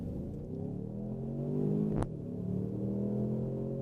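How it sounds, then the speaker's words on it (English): A 2016 Ford Mustang EcoBoost four-cylinder accelerating hard from a launch onto a main road, a steady rising engine drone heard from inside the car, broken by a sharp click-like gear shift midway before the pull resumes. "I'm going to pull out here on the main road and show you how quick the thing is"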